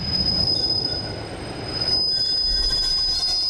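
A train at Torquay railway station, wheels squealing loudly on the rails with a sustained high-pitched screech over a low rumbling roll, close and continuous, no voices.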